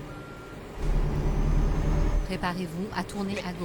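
Reversing beeps from a truck with a low-loader trailer in a driving video game, with the engine rumbling and an air-brake hiss, heard under a navigation voice and someone talking.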